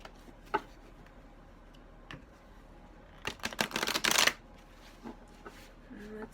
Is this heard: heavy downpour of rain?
no